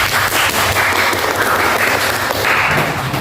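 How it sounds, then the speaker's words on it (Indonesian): Classroom applause during a teacher's practical lesson session, a dense, steady patter of many hands clapping close by, loud and continuous throughout. "Beri tepuk tangan dulu."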